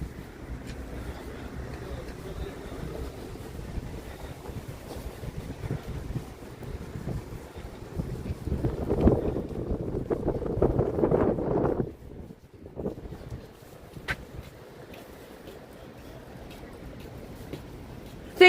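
Continuous wind noise rumbling against the microphone on the Danforth in Toronto on a winter night, swelling into a stronger gust midway before easing back to a steady blow.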